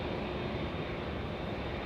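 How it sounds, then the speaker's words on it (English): A Boeing 787 Dreamliner departing Los Angeles International Airport and turning north makes a short burst of steady, broad jet engine roar with no voices. "that Dreamliner is going north"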